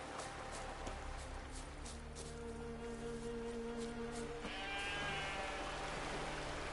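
Sheep bleat in The Witcher 3 amid steady rain-like ambience, a few bleats sounding at moderate distance before the background swells slightly toward the end.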